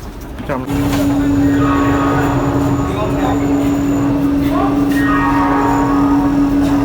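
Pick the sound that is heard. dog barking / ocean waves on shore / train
train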